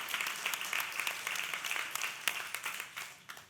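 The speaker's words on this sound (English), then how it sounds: "can we have a round of applause for our great videos again?" A nonprofit and community audience gives a moderate round of applause at a closing session, continuous overlapping claps heard from some distance, fairly soft.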